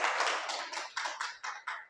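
Scattered audience clapping at a business seminar comes in distinct, close bursts of hand claps, thinning toward the end.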